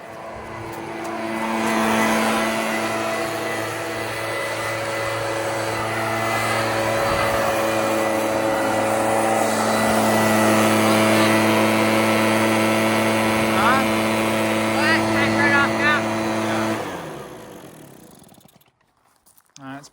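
A Husqvarna 130BT leaf blower with an aftermarket carburetor runs at full throttle, a loud, steady, droning engine whine that holds for about seventeen seconds before it cuts off abruptly, leaving near silence and a faint click.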